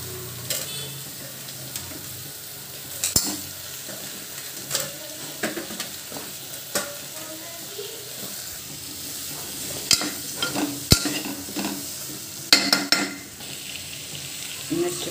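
Vegetables sizzle steadily in a hot pan for sambar while a spoon stirs them, scraping and clinking against the metal in irregular strokes close by.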